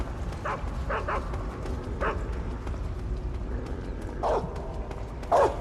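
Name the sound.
dog barking in Metal Gear Solid 3 video game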